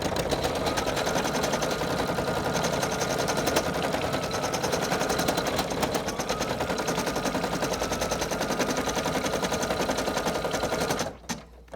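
A sewing machine runs fast and steady, stitching a felt appliqué ghost for a Halloween patch. The needle chatter stays close and even for about eleven seconds, then stops abruptly.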